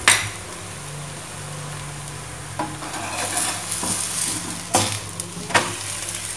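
A sugary coconut sweet paratha fries on a slow flame, a low steady sizzle under a faint hum, with a few louder spatula scrapes and taps against the pan and no talking.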